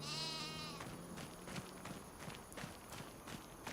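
Sheep bleating in a co-op farming video game, one drawn-out bleat at the start followed by soft clopping and light footstep taps.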